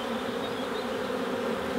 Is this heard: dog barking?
no